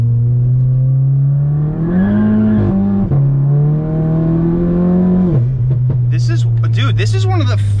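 Tuned Volkswagen full bolt-on car engine revving hard through the gears, strong steady drone rising in pitch with quick drops at each shift, then a crackling burst of pops near the end; loud and close.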